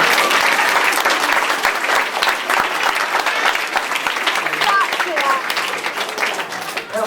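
Audience at a magic show applauding: loud, dense clapping from a crowd that carries steadily throughout, with voices mixed in underneath.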